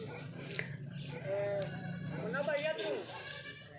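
Goats bleat on a farm in a few wavering calls, with people talking close by and a low background murmur throughout.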